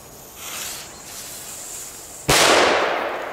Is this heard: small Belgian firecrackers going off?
yes